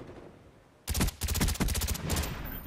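FAMAS bursts in the video game Black Ops: after a quiet moment, rapid controlled bursts of automatic fire rattle out close and loud, with short pauses between groups of shots.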